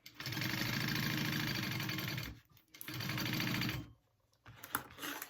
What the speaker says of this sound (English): Are we sewing all the way down?